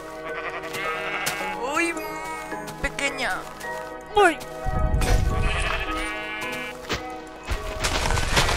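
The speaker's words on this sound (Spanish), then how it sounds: "que mato ovejas" Sheep bleat repeatedly in Minecraft, several wavering cries that rise and fall, mixed with thuds and hits of an attack, while someone talks throughout.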